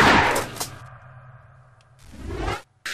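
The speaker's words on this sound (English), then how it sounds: "Stupid redneck, eat shotgun shell!" Shotgun blasts in Tomb Raider: a sharp loud shot opens, followed by a lower mechanical hum and swishing tail, then a second burst near the end, close and punchy.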